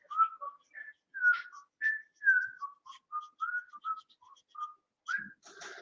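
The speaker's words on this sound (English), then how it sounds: "Whistling." A person whistles a short melodic tune, a string of clear, quiet notes of varying pitch with brief pauses, alone in a silent room.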